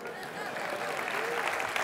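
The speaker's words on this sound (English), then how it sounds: "applause is a great way to do it." Audience applause filling a large hall during a tech company's opening conference keynote, steady dense clapping from a big crowd throughout, moderately loud and continuous with no pauses.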